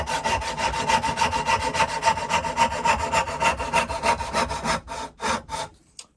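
A restored vintage Tyzack dovetail saw cuts ash wood up close, with a fast run of steady rasping strokes that slows into a few heavier final pushes and then stops.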